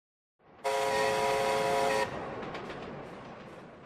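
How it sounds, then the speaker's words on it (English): A loud cartoon train horn blasts for about a second and a half, then a rumbling train rolls on steadily beneath it. "Let's take the train!"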